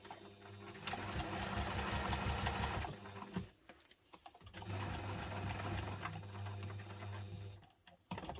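A sewing machine running in two long bursts of fast, even stitching while sewing a messenger bag, close and clear, with a short pause and handling noises between runs.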